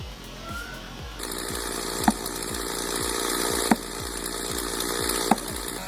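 A chainsaw drones steadily through a tree-cutting job, with a rhythmic low pulsing from the engine and three sharp cracks or knocks at regular intervals, fairly close and without talk.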